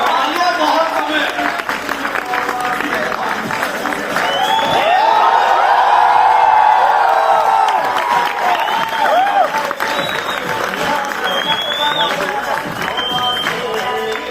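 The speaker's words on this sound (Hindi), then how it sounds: "तालियां बहुत कम है।" Crowd applause and cheering fill a university entrepreneurship summit hall, swelling to a loud peak midway with shouts over the clapping, as a speaker talks through the noise.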